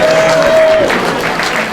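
Guests at a St. Patrick's Day dinner applaud loudly and continuously, a dense close wash of clapping with a voice talking over it.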